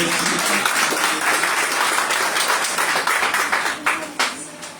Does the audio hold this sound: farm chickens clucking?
no